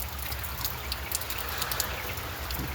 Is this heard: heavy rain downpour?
yes